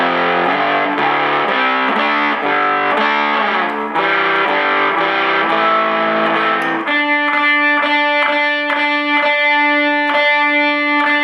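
Distorted electric guitar plays four slow measures of a song, steady loud notes that shift halfway into sharper, evenly spaced plucked hits, with no voices.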